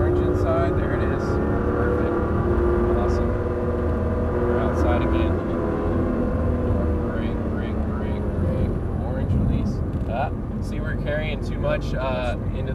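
Nissan GT-R engine droning steadily through a turn on a track, a continuous loud hum with shifting tone as the car corners, with a man coaching over it throughout.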